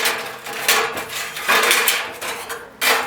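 Pro Craft electric nibbler shears biting through stacked steel sheet, giving bursts of harsh metallic clattering in short uneven runs, loud and close with brief pauses between cuts.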